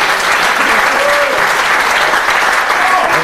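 A theatre audience applauding, thick and continuous clapping at full volume with a faint voice briefly audible underneath.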